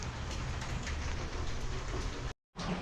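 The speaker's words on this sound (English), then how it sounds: "Another rainy day in New York." Steady rain falling outdoors on a wet New York day, a dense broadband hiss of drops on surfaces that continues evenly, broken by one brief cut to silence near the end.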